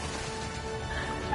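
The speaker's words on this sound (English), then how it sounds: "That sounds like it's a doggy." A dog barks and yips faintly amid steady background noise in the video game Helldivers 2, a couple of short calls near the end.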